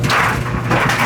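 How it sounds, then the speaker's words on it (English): Ice cubes tumble inside a running home clothes dryer, a steady rumble of the drum with continuous loud clattering and knocking throughout, close and with no talk. "It's just a couple of ice cubes flapping around inside."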